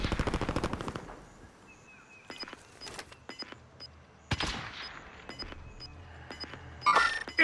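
Bursts of gunfire in the battle royale game Warzone, a loud opening volley followed by scattered sharp single shots and another heavy burst later, with game sound effects mixed in.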